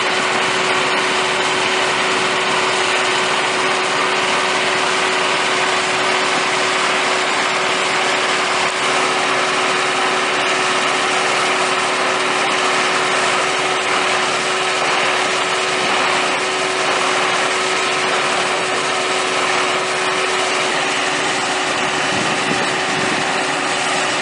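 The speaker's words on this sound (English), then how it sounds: "Only one pump's running, the other pump is sucking air" Water pumps run steadily at a coffer dam of 8 ft AquaDams on the Owens River Valley near Bishop, California, one pump sucking air; a continuous, loud mechanical drone with a steady hum holds unchanged throughout.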